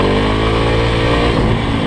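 A motorcycle engine drones loud and close, holding a steady, rough pitch for about two seconds with no break and no talking.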